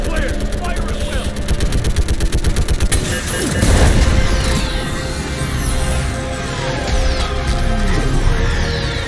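Rapid sustained gunfire rattles through the Mass Effect 3 battle, followed by a heavy rumbling orbital strike impact around the middle, with dense combat noise continuing at a loud level and speech mixed in.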